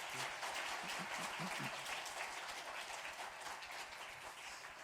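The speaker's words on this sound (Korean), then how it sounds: "뜨거운 박수로 한번 더 격려하겠습니다" Church congregation at a Sunday service giving warm applause in encouragement, a steady, even roar of many clapping hands throughout, fairly distant, with a few low voice fragments early on.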